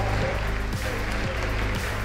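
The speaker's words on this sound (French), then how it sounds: "Allez, on peut l'applaudir, on peut l'applaudir tous les trois." An audience applauds the three podium finishers of a Hearthstone esports tournament on the main stage at Gamers Assembly in Poitiers, a continuous dense clapping wash from a large crowd, steady and loud with a low hum underneath.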